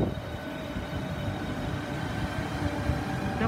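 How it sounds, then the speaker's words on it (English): Class 395 electric train 395-028 departing Dover Priory station for St Pancras, a steady, continuous low rumble with broad rail noise throughout and no voices. "395-028 Laura Trot is about ready to depart to St Pancras International."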